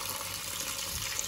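Running tap water pours steadily over hot boiled macaroni in a strainer, a continuous close splashing wash with no talk.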